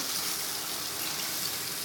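Water hitting browned, sizzling meat in a pot for palak gosht, a continuous loud hiss and crackle of frying with steady splashing, close and alone.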